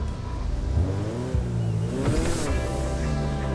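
A Grotti Stinger classic sports car in GTA V cruising a short stretch, the engine note rising and falling through gear changes as a steady, near motor drone with no speech over it.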